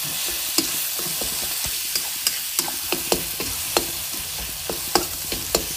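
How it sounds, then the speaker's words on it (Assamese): Pork with meat masala and cumin sizzling in a pan for an Assamese dhaba-style curry, with a steady frying hiss broken by regular sharp scrapes and clacks of stirring, close and loud, with no voices. "এনেকৈ ভাজি লওঁ"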